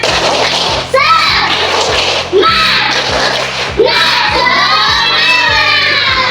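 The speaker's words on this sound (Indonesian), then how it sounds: "kita berikan tepuk semangatnya dulu. Tepuk semangat" A class of schoolchildren in an Indonesian elementary school does a spirit clap chant, loud shouted voices in bursts repeating about every one and a half seconds over rhythmic clapping, filling the room close by.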